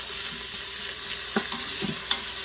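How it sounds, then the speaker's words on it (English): Onions frying in a pan and stirred with a bamboo spoon, a steady close sizzle broken by a few soft scraping knocks of the spoon, with no talking. "We're just going to stir it around with our spoon. Got our bamboo spoons."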